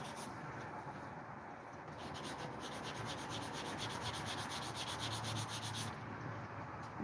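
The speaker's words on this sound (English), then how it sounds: "All it takes is just a little bit of this here sandpaper." Sandpaper rubbed by hand over a chainsaw clutch to clean old paint off it, a steady close scratchy rasping that holds for several seconds with quick repeated strokes toward the end.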